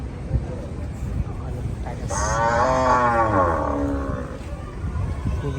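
Cattle at a busy Koyla Ghat livestock market in Narayanganj, gathered for Qurbani, with one cow giving a single long, loud, close moo lasting about two seconds amid crowd noise.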